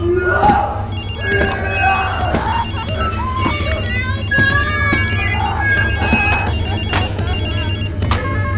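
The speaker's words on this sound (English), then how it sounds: "Turn off your cell phone!" A cell phone ringtone chirps and trills over several seconds in a lively setting, loud and close, with voices and other busy sounds around it.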